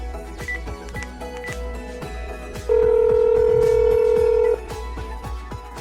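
A telephone dialing effect in a Hindi audio drama: a steady electronic tone holds for about two seconds amid a busier patch of short beeps and clicks, with no talking.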